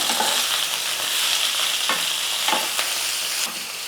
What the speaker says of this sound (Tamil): நான் ஒரு கைப்பிடி அளவு வந்து பாலக்கரை சேர்த்துக்கிறேன் இந்த கீரையை நல்லா வதக்கிக்கலாம்